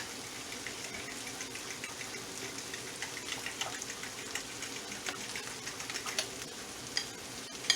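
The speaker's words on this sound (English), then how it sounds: "Those are the eggs. Scramble them up like that." Eggs being scrambled in a hot pan sizzle steadily, with scraping stir strokes building toward the end, alone without talk.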